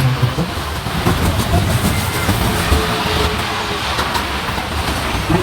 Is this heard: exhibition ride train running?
yes